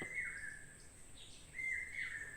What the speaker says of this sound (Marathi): असे पक्षी बोमटत असतात आपल्या जंगलातनं